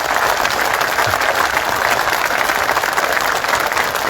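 Steady, dense applause from a large crowd at a political gathering honoring the chief minister, sustained and loud throughout with no break.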